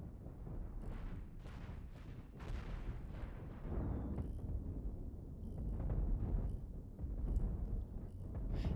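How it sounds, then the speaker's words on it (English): Deck cannons firing in a Cosmoteer space battle tournament match, a dense run of rumbling booms and impacts that overlap continuously at moderate loudness, with scattered higher-pitched weapon and interface tones. "Those deck cannon shots are just not getting through"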